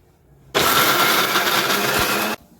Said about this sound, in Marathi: शेंगदाण्याची चटणी अशी दळून घेतलेली आहे मिक्सरच्या भांड्यामध्ये